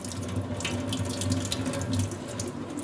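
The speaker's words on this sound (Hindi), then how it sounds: "हमने सिंक में ये हल्की सा पानी छोड़ लेना है टूटी में से" A tap runs a steady, close stream of water into a sink that holds hot water, while trotters are being cleaned, with a constant, even splash and no talk.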